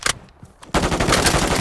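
Call of Duty MW3 SVA-545 assault rifle fire: a brief shot, a short pause, then a loud, sustained burst of rapid automatic gunfire up close.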